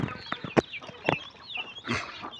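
Hens of Reza cross and Bhimavaram breeds cluck in a small breeding unit, with a run of close, uneven bursts of clucking and squawks and short gaps between them.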